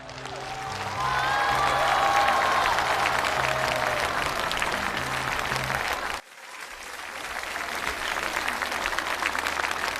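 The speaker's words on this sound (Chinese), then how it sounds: "掌声有请" A stage audience at a New Year crosstalk show breaks into sustained, dense applause welcoming the performers, with a brief cut partway before clapping resumes at a slightly lower level.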